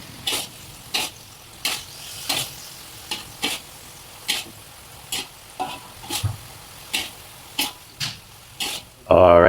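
Tofu stir-fried with basil and sweet pepper for Thai pad kra pao, with rhythmic scrapes of a utensil against the pan repeating about once per second over a steady sizzle, close and clear.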